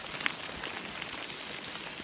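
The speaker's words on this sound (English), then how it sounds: "The rain's picked up just a little bit." Rain falls on the Hiawatha bike trail as a steady, soft, even hiss with a few drops pattering close by, and no voices.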